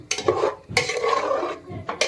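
A spoon scrapes and clinks around a bowl mixing rice flour batter with water in several quick strokes, a wet stirring sound close by with no talking.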